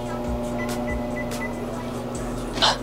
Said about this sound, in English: Microwave. Bam, 30 seconds.